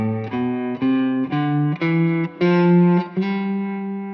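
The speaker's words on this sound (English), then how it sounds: "Mixolydian is a scale that sounds like this" Electric guitar with distortion and effects runs through the Mixolydian scale, eight or so sustained single notes played one after another, loud and close with a light reverb tail and no talk.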